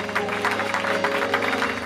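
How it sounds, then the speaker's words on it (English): A church congregation at a prophetic summit claps vigorously, a dense, continuous wash of many hands over steady background music and crowd noise. "Now clap your hand like you're going crazy"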